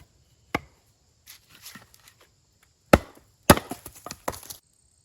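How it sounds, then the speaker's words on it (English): Sharp, loud chops of an axe or hatchet splitting firewood outdoors, a few isolated strikes followed by a quick cluster of splintering hits, no talking. "let's get cutting some wood up"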